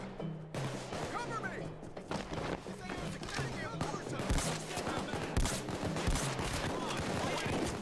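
Rapid gunfire from a Payday 2 heist shootout, with a steady barrage of close, sharp shots and heavy thumps layered together over several seconds, with a player talking underneath.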